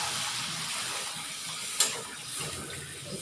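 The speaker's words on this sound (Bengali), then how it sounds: "আমার মশলাটা কষানো হয়ে গেছে, এখন এই জল দিচ্ছি।" Water goes into a pan of cooked spice masala, with a hissing, bubbling rush that flares sharply at one moment and then settles into a steady simmering sizzle. It is fairly quiet and close, with no talk.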